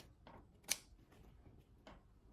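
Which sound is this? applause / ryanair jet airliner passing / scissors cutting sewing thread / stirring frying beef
scissors cutting sewing thread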